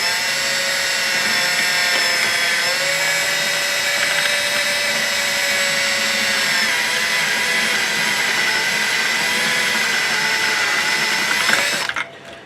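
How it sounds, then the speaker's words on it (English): Power drill fitted with an extension and a step drill bit, whirring steadily and loudly at a near-constant pitch for about twelve seconds before a short rattling burst and a stop. "I've taken my drill, okay, and I've added this extension and this step drill to it."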